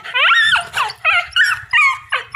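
A dog barks and yelps excitedly up close, a rapid series of high, whiny barks in quick succession.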